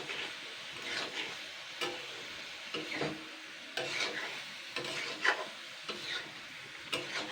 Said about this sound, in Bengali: এটা দিয়ে আমি ভালো করে আবারও 2-3 মিনিট হালকা নাড়াচাড়া করে নেব।